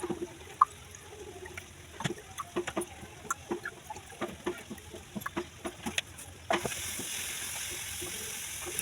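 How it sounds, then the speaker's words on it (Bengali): Water is poured inside a house during a Bengali Itu puja ritual. Scattered small clicks and taps come first, then a steady splashing hiss starts abruptly and continues to the end. "ঘরের মধ্যে জল দিয়ে দিচ্ছে।"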